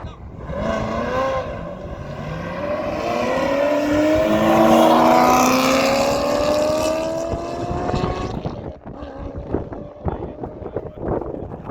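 A car fitted with Airlift air suspension drives a racetrack, its engine note rising steadily as it accelerates through the gears, then easing off amid wind buffeting, loud and close from on board.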